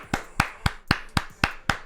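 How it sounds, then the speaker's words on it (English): Seven sharp hand claps in a steady, even rhythm, close and loud with no talking. "we clap it up"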